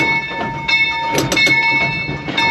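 A steam locomotive runs on the Pioneer Tunnel line, giving loud, close rhythmic chuffs and clanking over a steady mechanical hum, with no voices.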